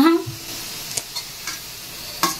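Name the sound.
potato fry sizzling and being stirred in pan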